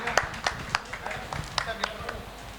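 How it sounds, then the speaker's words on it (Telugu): An audience in a church felicitation ceremony claps in a brief burst of scattered, irregular hand claps, with talk underneath. "గట్టిగా క్లాప్స్ కొడదాం."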